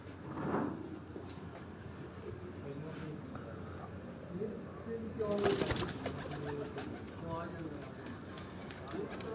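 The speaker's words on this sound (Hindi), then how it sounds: "चौधरी अब्दुल बासित उनके घर का काले मुँह वाला ये कबूतर जो 3:31 पर ये बैठा है।" A black-faced pigeon coos on a rooftop, soft low repeated calls heard at a distance, with a brief louder clatter midway and someone talking over it.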